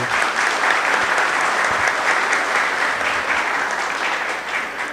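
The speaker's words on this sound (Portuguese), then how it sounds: "uma salva de palmas para esses 2 gigantes aí" A crowd at a housing-market event in Arapiraca breaks into loud, sustained applause that holds evenly for several seconds, a dense wash of many hands clapping at once.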